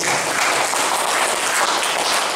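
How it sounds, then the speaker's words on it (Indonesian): Audience applause at a reseller package presentation, a steady dense patter of many hands clapping throughout, fairly loud and continuous with no talk over it. "Tepuk tangan untuk kita semuanya"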